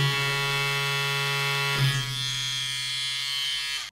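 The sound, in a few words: tattoo pen machine running with buzzing vibration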